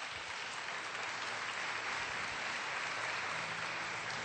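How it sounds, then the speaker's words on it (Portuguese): A Catholic church congregation applauding the Gospel reading, a broad, even roar of many hands clapping that holds steady throughout, moderately distant in a reverberant space. "Vamos aplaudir o Evangelho,"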